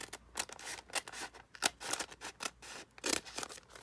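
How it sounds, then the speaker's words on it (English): Scissors cut through a plastic bag along a line in a series of close, crisp snips and slicing rasps, quiet and uneven, with no talking. "you just take it and just cut on the line here"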